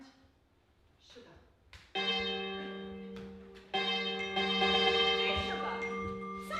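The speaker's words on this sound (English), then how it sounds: "So hit that iron bell like it's dinner time." Iron bell struck repeatedly in a live stage production at a drill hall, ringing strikes with long sustained metallic tones that overlap and build, louder in the second half, with some faint background noise.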